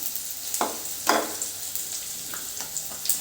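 Chopped onion hits hot oil and sizzles, with short scraping bursts of stirring in the pan, close and with no talking.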